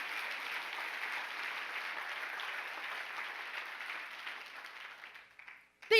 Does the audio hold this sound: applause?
yes